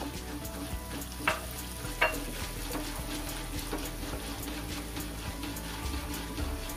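Urad dal roasting in a pan for a vallarai keerai thovaiyal, a soft steady sizzle with faint rattling and a couple of sharp clicks from stirring, heard close with no talking.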